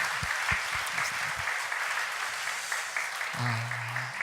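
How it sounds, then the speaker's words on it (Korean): Church congregation applauding a choir during a worship service, dense steady clapping throughout, with a brief low tone or voice near the end. "우리 카리스 중창단 경의의 박수, 사랑의 박수 하시겠습니다"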